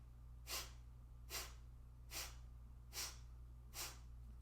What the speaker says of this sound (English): You simply go sniff, sniff, sniff, sniff, more or less in that tempo